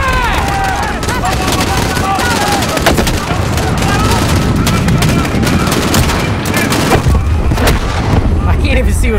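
Heavy gunfire fills a Call of Duty: Modern Warfare PC campaign battle in Urzikstan: continuous automatic weapon bursts mixed with sharp shots and booming explosions, loud and close throughout, with someone talking over parts of it.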